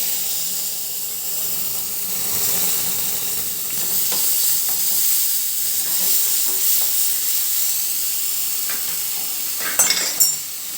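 Masala paste fries in hot oil with dried red chilies and bay leaves for a tawa veg fry, a loud, steady sizzle and hiss with stirring and a brief clatter of a utensil near the end.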